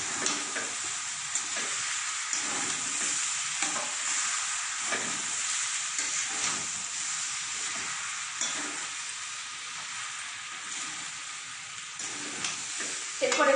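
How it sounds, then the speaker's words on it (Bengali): Rice and lentils with vegetables for khichuri are stirred in a hot pan, a steady frying sizzle broken by repeated rhythmic scraping strokes, close and alone without talk. "এবার সবজির সাথে চাল ডালটা ভালো করে মাখিয়ে দেবো"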